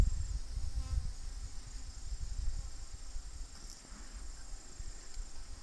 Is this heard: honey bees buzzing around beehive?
yes